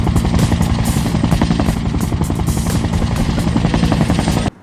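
A helicopter roars steadily and loudly throughout, its rotor thumping in a fast, even chop with no talk, then cuts off abruptly at the end.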